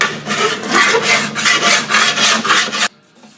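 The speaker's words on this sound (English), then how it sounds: "see where it's polished as I'm filing here" Someone hand-files a metal part on a Moto Guzzi motorcycle build: about eight close, rhythmic rasping strokes in quick succession, then an abrupt stop into near silence.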